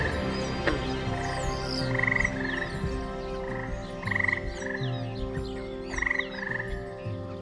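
A frog in the Canadian wilderness croaks in repeated, evenly spaced bursts, fairly close, over a steady low background hum with no voices.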